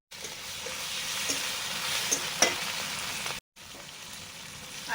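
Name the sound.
frying tomato, turmeric and chili in a pan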